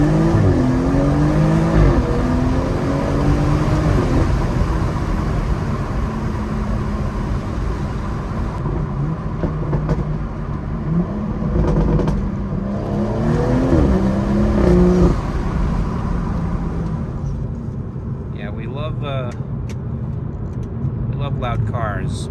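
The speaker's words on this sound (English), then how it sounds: "We love loud cars, but you know, high flow downpipe and a resonator delete." A BMW M240 with a high-flow downpipe and resonator delete drives at night, its exhaust a steady, loud droning rumble that rises and falls with throttle changes. Someone talks over it throughout.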